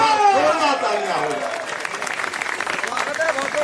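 An audience at a Hindi kavi sammelan poetry recital breaks into steady applause, a dense close wash of clapping that holds for a few seconds and then gradually thins.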